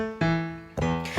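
A GarageBand beat melody with its first note removed plays as three bright synth notes with sustained harmonic tones, each starting sharply and fading, clean with no voices.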